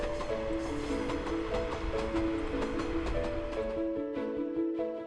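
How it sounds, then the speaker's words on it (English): A sightseeing train running on rails between Nanao and Anamizu, with a steady rumble of wheels on track and a near, continuous carriage noise. Layered tonal hums sit over it throughout, and no one speaks. "The train runs between Nanao and Anamizu, a distance of about 33 kilometers."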